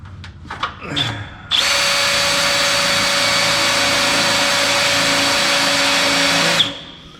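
A power drill spins a bit during a build of a metal brake and shear: a few short knocks, then a loud, steady, close-up whine that holds for about five seconds before cutting off.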